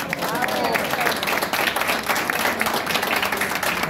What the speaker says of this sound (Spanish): Permítame un aplauso para nuestro señor.